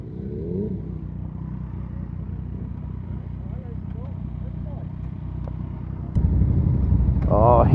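Four big motorbikes ride past on the road, a low engine rumble that holds steady and then swells louder near the end as the bikes draw close, with a voice talking over it.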